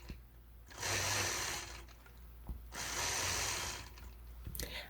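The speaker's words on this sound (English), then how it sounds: "And I will stitch in the ditch along the side of that block." A sewing machine stitches in the ditch while quilting a star block, running in two steady whirring bursts with a brief mechanical pause between them, close and moderately loud.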